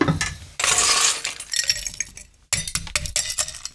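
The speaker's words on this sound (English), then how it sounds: "Ice this up." Ice cubes tumbling into a cocktail shaker for a Bailey's mint chocolate martini, a close flurry of sharp clinks and rattles in two bursts separated by a brief silence.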